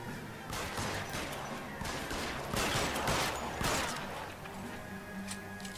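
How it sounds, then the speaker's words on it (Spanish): Gunfire in the video game L.A. Noire: dense, repeated bursts of shots and crashing impacts roll on for several seconds, loud and close, with a faint voice in the mix. "como nos acribillaron a balazos"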